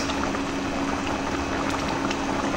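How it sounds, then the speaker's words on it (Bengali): Hilsa fish curry with mustard paste simmering in a pot, a steady dense bubbling and hissing that holds even and close throughout. "আর অল্প সময় একটু ফুটিয়ে নিয়ে নামিয়ে দেবো।"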